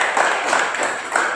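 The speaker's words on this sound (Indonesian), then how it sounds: "Sapu, tepuk tangan." Schoolchildren clap their hands together in a classroom, a short burst of several quick, fairly close claps in an uneven rhythm.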